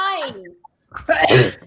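A single close, loud human sneeze follows a short spoken word, with a brief pause between them.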